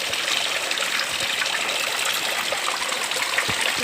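Rainwater pours steadily into a water drum, a continuous close trickling and splashing rush with no talking.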